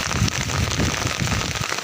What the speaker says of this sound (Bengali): অনেক বৃষ্টি হচ্ছে আর পানি দিকে বেসে যাচ্ছে